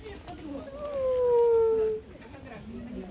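A cat at a zoo gives one drawn-out meow that slides down in pitch, with soft voices and background murmur around it.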